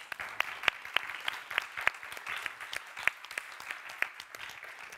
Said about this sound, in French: on peut les applaudir fort